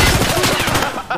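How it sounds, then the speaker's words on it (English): Rapid gunfire in the video game Escape from Tarkov, a dense burst of repeated shots filling the clip, loud and close with a sharper crack near the end. "Oh, he's shooting him."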